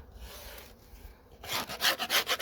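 A metal chisel scrapes winter debris off a wooden beehive bottom board, first light rubbing, then a run of loud, rhythmic rasping strokes up close.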